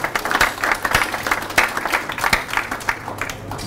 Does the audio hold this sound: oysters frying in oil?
no